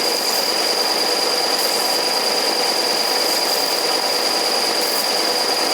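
A belt sander grinding burrs from the end of a truck fuel line, a steady dense whine and rasp that runs unbroken and loud, close by and with no talking.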